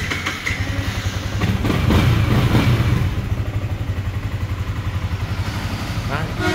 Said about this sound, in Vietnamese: Máy rất êm ha.